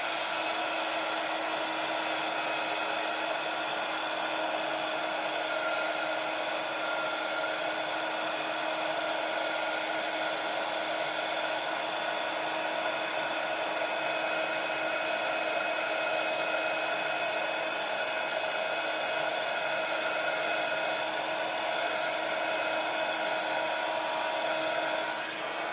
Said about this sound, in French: Et avec le heat gun, on va chauffer tout de suite.